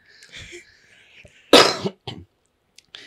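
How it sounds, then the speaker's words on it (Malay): A single harsh cough, close and sudden, followed by a couple of smaller bursts, with quiet murmuring and breathing around it. "susah sebab terbatuk-batuk eh"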